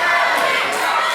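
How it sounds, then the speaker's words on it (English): A wrestling arena crowd at a UWA Elite match roars and chants for Joey Adams, a loud, dense wall of massed voices filling the whole short moment. "listen to the crowd here chanting for Joey Adams"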